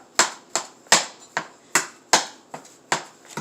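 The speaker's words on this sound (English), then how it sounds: "So I'm chopping up my meat." Ground beef being chopped up in a pan for homemade lasagna, a series of about ten sharp, separate knocks from the utensil striking the pan at an uneven rhythm, close and clear with no talk.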